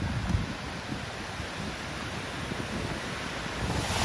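A river cascading through a narrow slot canyon beside a massive waterfall, heard as a steady, dense roar of rushing water and mist-laden wind, continuous and fairly loud with no voices.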